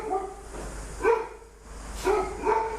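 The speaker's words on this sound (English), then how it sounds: "God, the dog's going off." Dog barking off to the side during a motorcycle workshop session, with three distinct barks spaced about a second apart, moderately loud and alone with no talk over them.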